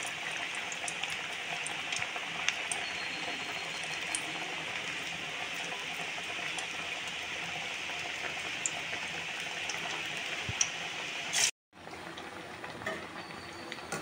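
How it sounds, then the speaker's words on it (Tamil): Onion vada frying in hot oil over a medium flame, a steady, close bubbling sizzle that holds evenly before cutting out abruptly and resuming. "தட்டி இப்படி எண்ணெயில் பொறுமையாக போடுங்க"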